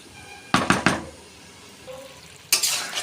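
Cooked bottle gourd greens are stirred in a pan with a spoon, giving three quick scraping strokes, a short pause with faint sizzling, then another scrape, all close and clear.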